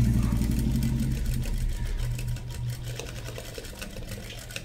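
A sewing machine stitches cutwork on a blouse, its motor giving a steady, close mechanical whir that runs unbroken and slowly eases slightly in loudness, with no talking.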